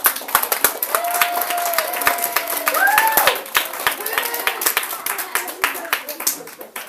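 A small audience clapping in scattered, uneven claps rather than full applause, with voices heard faintly over the hand claps.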